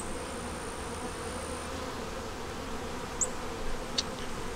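Honey bees droning steadily at an opened hive during an inspection, with a yellow-marked queen and a pollen feeder nearby; a dense, continuous close buzz fills the scene, with a few brief louder passes of individual bees near the end.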